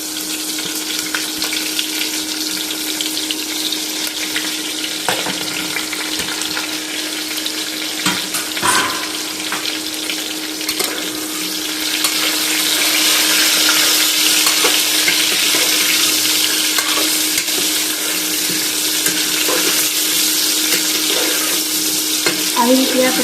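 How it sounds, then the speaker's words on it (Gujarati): Stuffed okra fries in oil with a continuous loud sizzle and crackle, occasional clicks of stirring, and the frying growing denser partway through. "અને ભીંડાને આપણે તેલમાં છોડવા દઈશું।"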